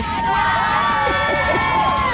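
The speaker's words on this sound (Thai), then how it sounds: "รู้สึกว่า กองเชียร์ซุ้มนี้จะเสียงดังเป็นพิเศษนะ" Roadside cheer booth crowd at a Pattaya marathon along Jomtien Beach, a dense, loud wash of cheering and shouting voices with whistle-like tones, steady and close for the whole span.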